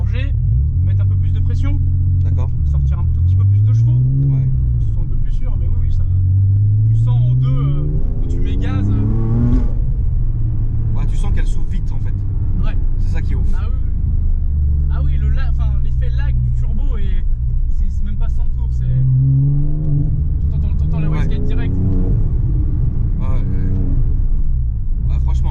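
A Porsche Cayman with TechArt tuning and a forged, boosted engine revs and accelerates in several rising pulls over a steady low rumble, loud and close throughout, with a voice speaking over the engine.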